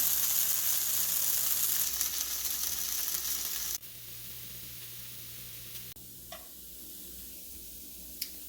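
Crisp dosa sizzling and frying on a hot pan, a steady loud hiss at first that drops to a quieter crackle after a few seconds, with a faint tick or two near the end.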